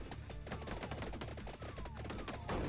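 Rapid, dense bursts of gunfire from the video game Vampire Survivors crackle without a break, loud and close, with overlapping shots piling up and a brighter surge at the very end.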